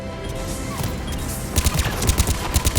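Enemy gunfire in a Mass Effect 3 firefight, a dense crackle of shots with rapid bursts growing louder and sharper in the second half, set against steady battle noise.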